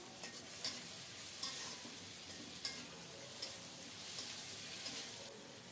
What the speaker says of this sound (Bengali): এরপর নেড়ে চেড়ে ভালো করে কষিয়ে নেব।